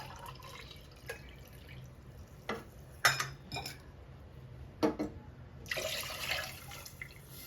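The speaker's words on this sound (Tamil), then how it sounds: "இது கூடவே தண்ணியும் சேர்த்துக்கிறேன்." Water is poured into a cooking pot of sautéed ingredients and coconut milk for a one-pot green gram rice (pachai payaru sadham). Quiet clinks and drips come first, then a steadier close pour near the end.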